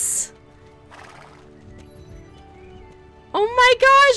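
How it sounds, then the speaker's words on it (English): A horse in the video game Star Stable gives a loud, close whinny with rising and falling pitch near the end, after quiet game ambience and a soft thud, with faint clip-clop beneath. "We're riding the horse!"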